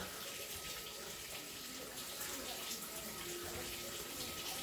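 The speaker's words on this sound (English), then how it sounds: "Now I got my water nice and hot. I'm just going to fill up my bowl." Hot water pours steadily from a tap into a bowl, a constant splashing rush with no pauses, fairly close.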